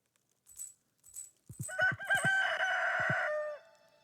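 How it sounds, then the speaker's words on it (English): A rooster crows in the video game Stardew Valley, a single loud cock-a-doodle-doo following a few soft game chimes and thumps, near and clear with no talk. "I hear a rooster every morning"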